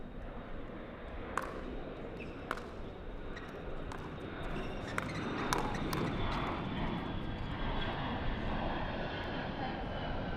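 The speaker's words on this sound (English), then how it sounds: "planes coming on over" Airplanes pass overhead on approach near LaGuardia Airport, a steady broadband engine roar filling the whole stretch beside an outdoor pickleball court, with occasional sharp ball pops and faint crowd sounds beneath.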